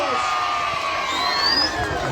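A crowd at the Ayacucho carnival shouts and cheers loudly and steadily, with whoops and high shrill voices rising above the dense roar.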